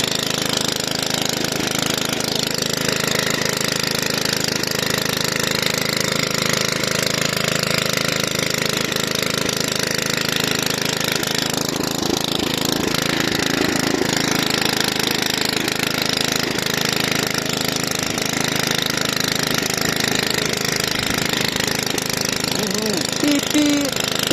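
Petrol engine of an Oleo-Mac 155K cultivator running steadily up close throughout, a loud continuous chugging drone with faint voices in the background.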